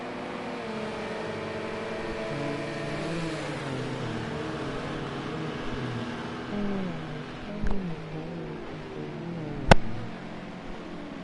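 Le Mans race car heard onboard with the race leader, its engine droning and shifting pitch through the gears in a steady high whine, with a couple of sharp clicks and pops near the end.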